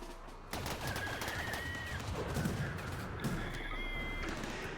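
Rapid bursts of gunfire in RimWorld combat echo repeatedly through a dense, busy mix, sustained across most of the span after a brief quiet start.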